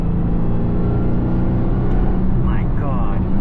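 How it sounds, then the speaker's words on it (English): A 2023 Dodge Charger Hellcat's supercharger whines over a deep engine rumble under load, steady and loud from inside the car, with a rising tonal sweep near the end. "But just listen to that supercharger."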